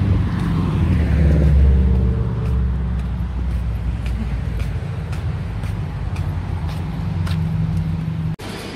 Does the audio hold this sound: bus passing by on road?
yes